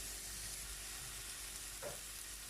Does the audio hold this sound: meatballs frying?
yes